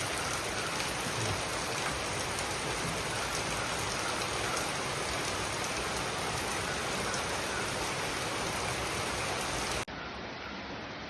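Heavy, steady rain pours down continuously, a dense even hiss that drops slightly in level near the end.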